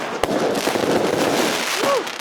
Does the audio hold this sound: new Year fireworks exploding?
yes